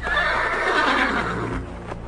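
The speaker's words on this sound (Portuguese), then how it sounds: "Olhei e vi um cavalo preto." A black horse gives a loud, close neigh, a single whinny with a shaky trembling tail lasting about two seconds, heard alone with no talk.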